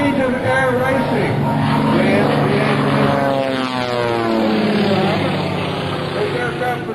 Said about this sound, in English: tear the skies up for you here in a one-of-a-kind airplane known as the Cyclone